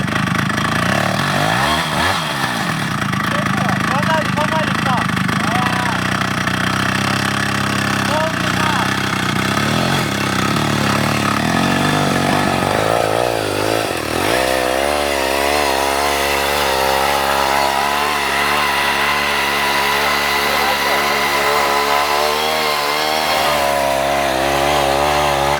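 An electric snowmobile and a Super ATV grind through knee-deep snow, engines and motors droning loud and steady throughout, with a rising whine partway through and voices talking over the machines.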